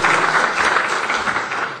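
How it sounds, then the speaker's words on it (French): Audience applause at a French-language conference on connected agriculture, a dense steady wash of many hands clapping together, loud and close, holding evenly through the whole moment with no voices. "On vous applaudit encore"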